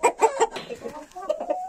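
Bielefelder chickens, two hens and a rooster in an aviary beside a henhouse, cluck close by in a quick run of three loud calls followed by softer, uneven clucking.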